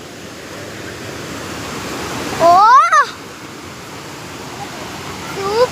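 Water pours steadily at Meen Mutti waterfall, a constant broad rushing roar throughout, with a brief exclaimed voice cutting in near the middle.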